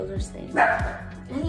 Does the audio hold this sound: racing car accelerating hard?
no